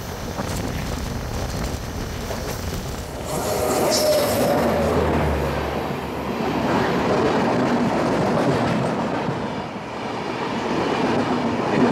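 An Indian express train passing at a rail crossing, a long steady rumble and rush of wheels with clattering and wind noise building and swelling for the whole stretch.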